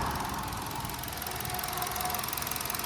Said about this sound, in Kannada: ಕಾಪಾ ಇಂಜನ್.